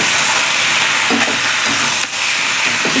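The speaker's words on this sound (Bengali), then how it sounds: "এবার দিয়ে দেবো ভেজে রাখা আলু আর পটল। পটল আর আলু দিয়ে দিলাম। এবার একটু নেড়ে চেড়ে দেবো।" Fried potatoes and pointed gourd being stirred in a hot pan, a dense continuous sizzle with scraping strokes of the spoon rising through it, close and loud without talk.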